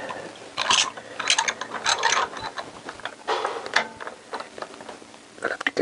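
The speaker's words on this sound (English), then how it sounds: "Just whack them in with your 10mm socket" A ratchet with a 10mm socket tightens engine bolts on a Honda CBR1000F motorcycle, close quick clicking bursts in irregular rhythm, repeated many times over several seconds.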